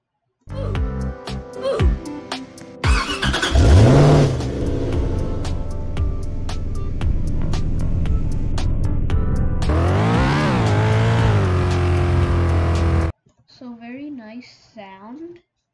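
A race car's engine revs hard in the Car Crushers 2 game, with rising and falling pitch sweeps, tire squeal and a sustained loud roar, before a short stretch of speech at the end.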